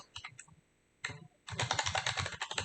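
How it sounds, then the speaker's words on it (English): Quick bursts of typing on a computer keyboard into Notepad, a few short clusters of keystrokes followed by a longer, denser run of rapid clicking, close and clear with no talking. "I'm attempting to type into Notepad"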